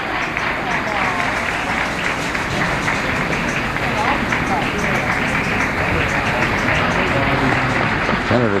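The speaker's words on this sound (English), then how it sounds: "Applause not coming from reporters, but from supporters of the senator." Supporters of Senator Robert Kennedy applaud steadily in a dense, continuous burst of clapping at his 1968 presidential campaign announcement. Voices murmur underneath the applause.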